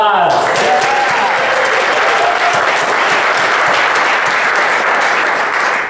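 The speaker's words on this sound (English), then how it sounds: "So give yourselves a round of applause." A full room of attendees at a club introduction event breaks into a loud, sustained round of applause, dense and even throughout, with a few voices mixed in beneath the clapping.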